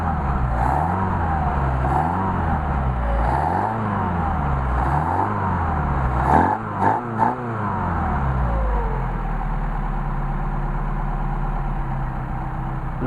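A Mercedes 190SL engine fitted with Solex carburetors revs repeatedly in smooth rising and falling swells, with a few sharp blips before settling into a steady idle, loud and close.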